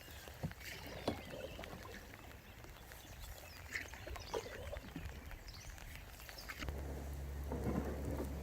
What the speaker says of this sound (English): This rain is so demoralising, isn't it?